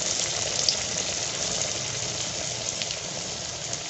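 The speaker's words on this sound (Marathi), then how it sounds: "बघा आता हे तळायला लागलेत वडे" Medu vada, round lentil fritters, frying in hot oil, giving a steady, close, continuous hiss and crackle of bubbling oil throughout, with no voices.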